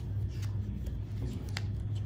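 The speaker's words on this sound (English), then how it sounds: "you're shuffling too hard." Playing cards shuffled hard at a tabletop game session, a few quick riffling bursts over a steady low room hum, close and moderately loud.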